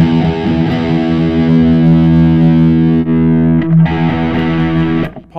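Heavily distorted electric guitar on a Strat metal preset through an audio interface, sustained chords with brief breaks and re-struck notes, loud and close with no talking.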